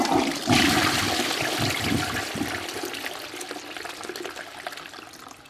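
A toilet flushes close by, a loud rushing swirl of water that slowly tapers into trickling as the bowl drains and refills.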